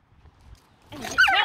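Jasper, a wolfdog, lets out a brief, close, high whine and yip after a near-silent start, rising sharply in the final half second.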